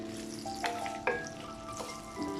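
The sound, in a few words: onion, chili, curry leaf and thyme frying in pan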